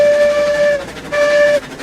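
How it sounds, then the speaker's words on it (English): A steam locomotive whistle in Railroads Online sounds two loud, clear blasts, the first longer and the second shorter after a brief pause, on a double-ended locomotive. "Oh yeah, let's try the whistle."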